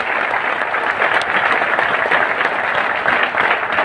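A seminar audience bursts into loud, sustained applause, a dense and steady wash of clapping from many hands that holds at an even level throughout with no one speaking.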